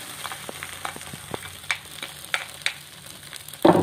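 Cooked rice goes into a hot pan with fish meatballs for nasi goreng, frying with a continuous sizzle broken by repeated spatula scrapes and taps, ending in a louder clatter.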